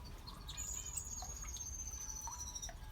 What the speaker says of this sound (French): 4 petits moineaux du Japon